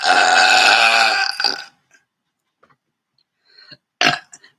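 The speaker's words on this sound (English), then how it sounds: "I'm just going to be burping myself out." A long, loud, deep burp rumbles close up after drinking soda pop, followed by quiet gaps and a few small mouth sounds and a short throaty gulp.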